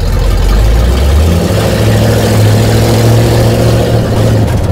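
A Zhiguli car engine runs loud and steady while the car is driving, a low drone that rises in pitch about a second in as it picks up speed, with no voices over it.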